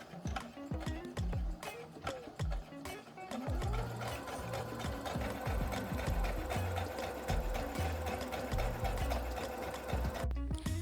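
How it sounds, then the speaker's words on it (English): A sewing machine, not a serger, stitches and back stitches wide leg pants in rapid bursts of mechanical clatter, short runs at first then a longer continuous run, close and clear with no talk. "And this is on the sewing machine, not the serger. So again, you do a few little sews. We're going to back stitch twice and take it through."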